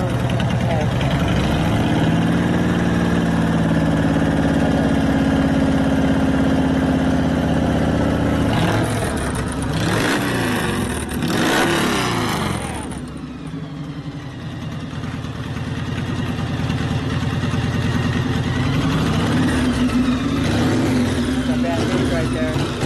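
Harley-based custom rigid bobber chopper engine, idling steadily with a low rumble, then briefly revving up in the middle before settling back to idle, with people talking over it throughout.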